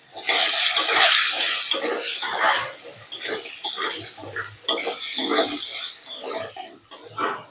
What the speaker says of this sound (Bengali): এবার আমি এতে আলুগুলো দিয়ে দিচ্ছি। আলুগুলোকে একটু ভালো করে ভেজে নেব।